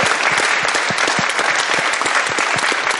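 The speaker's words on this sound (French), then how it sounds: "je voudrais quand même qu'on en profite pour applaudir la République démocratique du Congo" A studio audience in a television show setting claps loudly and continuously, a thick wall of applause that holds steady with no talking over it.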